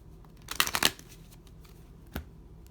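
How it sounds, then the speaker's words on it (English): Love oracle cards are shuffled in a brief riffling burst, followed after a pause by a single soft snap of a card, all fairly quiet. "I'm going to pull some love oracle cards"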